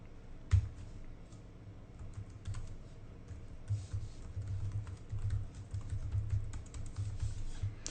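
Someone types Objective-C code on a computer keyboard, producing quick, irregular clusters of close clicks and taps over a low background hum, with no one speaking.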